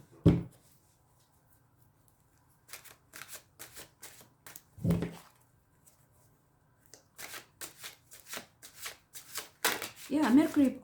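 Tarot cards are shuffled in quick riffling bursts, with sharp flicking slaps separated by pauses, close and crisp, while a voice speaks in places between the shuffles.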